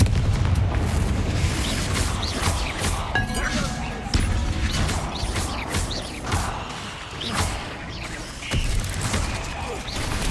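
Confringo blasting spells in the Hogwarts Legacy video game: repeated booming crashes and impacts over a dense, continuous rumble, with spoken voice mixed in.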